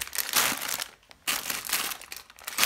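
Plastic parts bags from a Lego Diagon Alley set crinkle and rustle up close as they are handled, in loud bursts with a brief quiet pause midway, and no talking.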